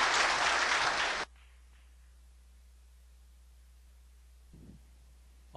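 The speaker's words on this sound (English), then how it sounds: "let's give another round of applause as our gratitude to His Holiness" Audience applause for His Holiness at a dharma talk in a Taiwanese temple, a short loud burst of clapping that stops abruptly, leaving a quiet hall with faint hum and a brief murmur.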